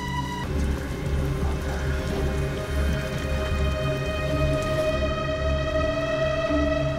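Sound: rain in video game Detroit: Become Human

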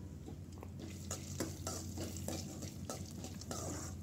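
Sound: roasting cashews and roasted gram in oil, stirring

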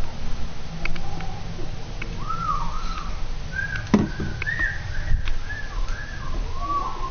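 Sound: person whistling

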